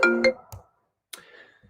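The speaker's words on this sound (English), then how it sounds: "Sorry for the phone call interruption there." A phone rings mid-poetry reading with a short electronic ringtone, two bright tonal chimes followed by a sharp click, a pause of silence, then a fainter trailing tone up close.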